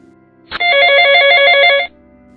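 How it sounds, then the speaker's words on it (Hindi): A phone ringing with an incoming call, a single loud electronic ringtone burst of just over a second, close and clear against a quiet background. "अचानक पाक्सन के फोन में कॉल आने लगता है।"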